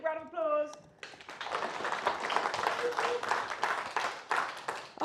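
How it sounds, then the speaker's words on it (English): Audience applause at the BSidesNCL 2022 security conference in Newcastle, breaking out after a short spoken intro and carrying on as dense, sustained clapping with cheering for several seconds. "Woo, big round of applause."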